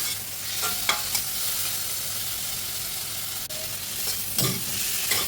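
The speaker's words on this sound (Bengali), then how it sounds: "টমেটো কুচি দিয়েও আবার একটু ভালো করে নাড়তে হবে।" Chopped tomato fries in a pan for an egg and bottle gourd curry, a steady close sizzle broken by a few soft scraping stirs.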